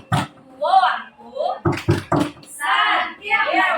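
A group claps in a short rhythmic burst of about four quick claps, part of a clapping chant at a school positive-culture session, with chanting and talking voices before and after.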